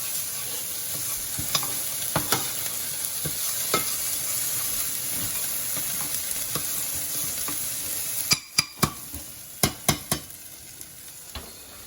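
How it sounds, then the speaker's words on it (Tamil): Onions frying and being stirred in a pan for a shrimp curry, a steady close sizzle with intermittent scrapes and clinks of the spoon, a cluster of sharper knocks toward the end. "போட்டுட்டு வெங்காயம் இதுக்கு கலக்குவோம்"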